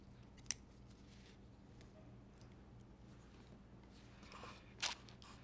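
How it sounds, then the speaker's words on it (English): A hand-rolled cigar has its tip cut off, heard as two quiet, sharp snips a few seconds apart against a faint background hum. "before smoking it, you cut off the tip"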